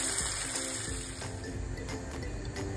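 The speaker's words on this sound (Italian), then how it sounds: "A questo punto aggiungo un po' di acqua calda e lascio cuocere le fave con il coperchio." Hot water pours into a pot of fresh fava beans cooking with pancetta, a soft continuous gushing splash up close.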